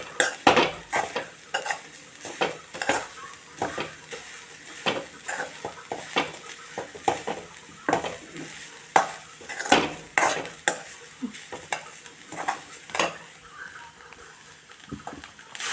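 Grated carrot halwa roasts in a pan as a spoon stirs and scrapes repeatedly, giving close, rhythmic scraping strokes over a soft background sizzle.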